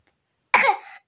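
A single harsh cough sounds close and loud, short and sharp, in an otherwise silent room.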